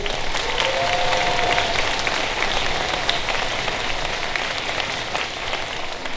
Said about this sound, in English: Okay, let's give a big round of applause for Megan Davis.